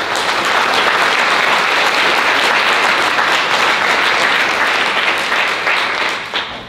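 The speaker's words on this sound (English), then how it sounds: "the first round of applause this afternoon needs to go to all the parents, guardians, and families in the audience today" Loud, sustained applause from the audience at a student athlete awards and collegiate signing ceremony honors parents, guardians and families, a dense unbroken roar of clapping that tapers slightly at the end.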